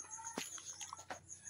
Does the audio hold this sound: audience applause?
no